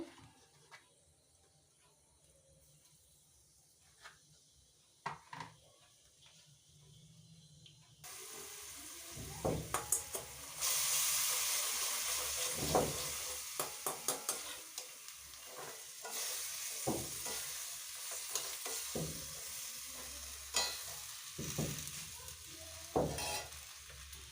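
A cabbage and pea curry starts sizzling in a pan after a quiet opening, settling into a steady frying hiss broken by repeated scraping and stirring clatters.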